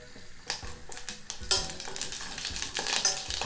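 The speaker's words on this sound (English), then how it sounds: "Then I'm gonna kind of turn around the shishito peppers and coat it with the oil." Shishito peppers stirred around a pan as they fry in sesame oil, giving a steady crackling sizzle with repeated scraping strokes and light clinks of a utensil against the pan, close and moderately loud.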